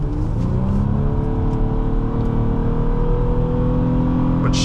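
A 2011 Nissan Maxima SV accelerates on the road, heard from inside the cabin, its engine note a loud, continuous hum that builds steadily with a smooth whir and no talking.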